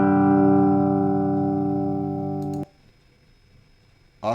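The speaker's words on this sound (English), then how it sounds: "Then we have this cubic distortion." A guitar G chord processed with cubic distortion in Python sustains loud and buzzy for about two and a half seconds, then stops sharply, followed by quiet and a brief voice snippet.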